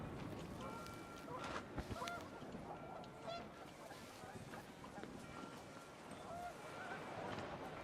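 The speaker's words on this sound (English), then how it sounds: "The wind picked up, and panicked geese appeared and quickly went." Panicked geese in the video game What Remains of Edith Finch honk repeatedly and overlap in a dense flock, against steady wind and rushing ambience, with no speech.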